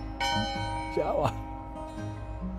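An old school hand bell rung at a historic schoolhouse in South Dakota, a few bright clangs ringing out over steady background hum and faint talk.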